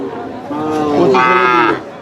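A young heifer at a livestock market moos loudly and close by, one long drawn-out call that rises in pitch partway through, with no talking.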